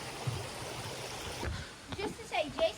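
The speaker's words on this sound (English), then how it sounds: "Oh, waterfall. Favorite part." A waterfall and stream flow beside a forest path near a cabin at Derby Cove, Alaska, making a steady, soft broadband rush. Voices speak over the water toward the end.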